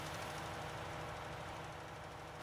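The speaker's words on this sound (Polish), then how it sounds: "Ależ skacze fajnie traktorek." Tractor engine in Farming Simulator 19, a steady low droning rumble with a faint rattling throb, constant and fairly quiet throughout, no voices.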